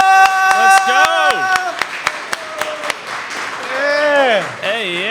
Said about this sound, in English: Can you please give a nice round of applause for my boy, Kemp Faneto?